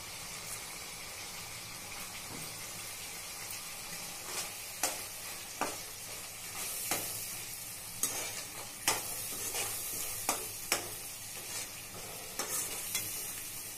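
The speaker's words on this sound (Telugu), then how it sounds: "మెంతి కూర వేసుకుంటామండి." Fenugreek leaves fry in a pan for aloo matar curry, with a low steady sizzle and repeated scraping clicks of a spoon stirring at irregular intervals, close and alone.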